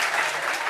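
Audience applause at a French talk show debate on celebrity couples: a brief, dense burst of steady clapping, fairly loud and close, with no voices standing out.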